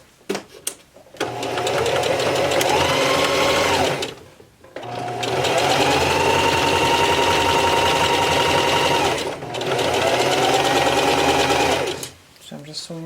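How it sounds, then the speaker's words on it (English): Sewing machine stitching down the edges of a drawstring backpack, two long steady runs of loud mechanical whirring separated by a brief pause, heard up close. "So I'm just sewing it down."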